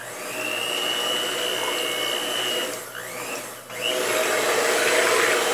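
An electric mixer or beater whirs steadily as it beats a homemade soap mixture until thick, a loud close-up motor whine that briefly dips and shifts pitch before resuming, with no talking.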